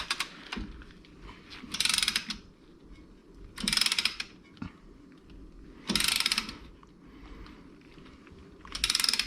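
A brake caliper piston tool is cranked to press back the piston on a 2009 Toyota Camry's front brakes, producing four bursts of rapid ratcheting clicks at regular intervals, close and distinct, with faint mechanical creaks between.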